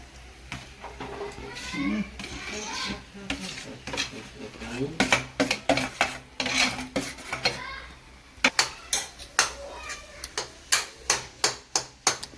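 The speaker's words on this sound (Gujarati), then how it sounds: "બટાટાનો ચૂંદો કર્યો ને એ મિક્સ કરી નાખવાનો બરાબર" A spoon stirs and mixes mashed potato dabeli filling with garam masala in a metal pan, giving repeated close scraping and clinking strokes that turn into rhythmic taps toward the end, with talk at the start.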